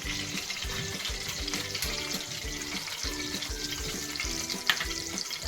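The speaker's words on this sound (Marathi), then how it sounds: "तर आता हे जे तूप होतं ते पूर्ण टाकून घेणार आहोत आपण." Ghee being poured into a pan for semolina sheera sizzles and bubbles steadily over a low rhythmic stirring or scraping, close and moderately loud with no talking.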